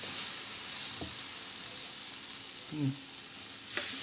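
Wheat flour batter frying in a pan for a thin dhirde pancake, giving a steady close sizzle with a few soft scraping or stirring touches and no speech.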